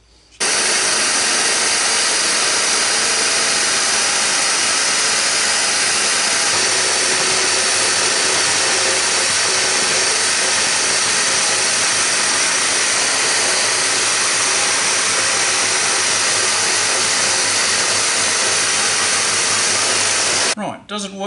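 A Forstner bit boring into hard mulga wood, a loud continuous roaring whine from the drill that runs steadily for about twenty seconds before cutting off abruptly.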